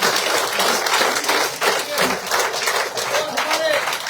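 Sustained applause from a crowd at a political party joining event in India, dense and steady throughout, with a voice faintly heard through the clapping.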